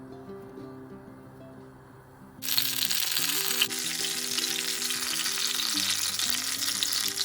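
Spaghetti ingredients sizzling on a hot plancha griddle for a creamy green-sauce pasta, a quiet hum giving way abruptly to loud, steady frying hiss that continues to the end.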